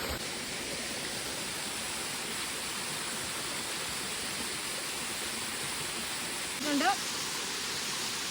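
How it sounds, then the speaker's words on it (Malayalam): Small waterfall at a streamside lunch spot, a steady broadband rush of falling water filling the whole stretch, with a brief louder splash or knock near the end. "ഒരു ചെറിയൊരു വെള്ളച്ചാട്ടം പോലെ കണ്ട് ഞങ്ങൾ അവിടെ ഇറങ്ങി"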